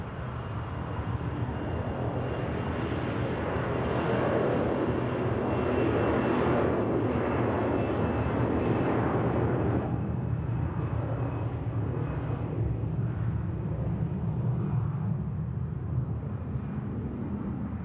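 A Swiss airliner bound for Sweden takes off at Zurich Airport in crosswinds, its engines a loud, sustained broadband roar that holds steady, then eases slightly as it climbs away.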